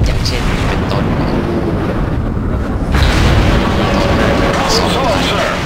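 Warship guns firing in World of Warships, heavy booming blasts merged into a loud, dense rumble that swells again midway, with no pause between the roars.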